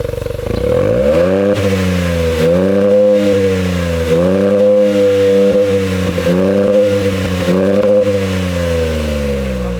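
A Honda City hatchback 1.0 engine with a JTC Super Sport aftermarket exhaust revs repeatedly, climbing and falling in rapid bursts with a deep throaty exhaust note, loud and close.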